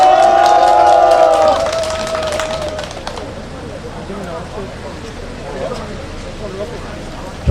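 An outdoor crowd at a Korean county-governor candidates' joint election rally in Hamyang applauds and cheers under a speaker's amplified voice for the first few seconds, then the clapping fades to a low murmur of people.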